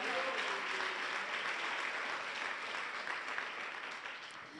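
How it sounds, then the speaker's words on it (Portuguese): A church congregation breaks into sustained applause, a dense, steady wash of many hands clapping close by that fills the space for several seconds and tapers slightly at the end. "Aplauda o Senhor Jesus."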